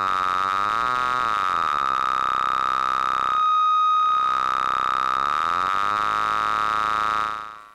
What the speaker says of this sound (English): Let's try some amplitude modulation.